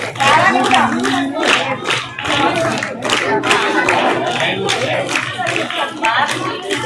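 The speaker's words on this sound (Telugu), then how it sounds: "గర్ల్స్ అంటే అమ్మాయిలు చప్పట్లు కొట్టుంటే గట్టిగా చప్పట్లతో ప్లీజ్ కార్యక్రమాన్ని కంటిన్యూ చేయాలి" Schoolgirls in a crowd clap in bursts at a school prize distribution, rhythmic hand claps rising and falling with voices and shouts mixed in close by.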